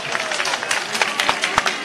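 Steady applause from an audience at a Congress political rally in Madhya Pradesh, a dense wash of clapping hands filling the short moment with a loud, even crackle.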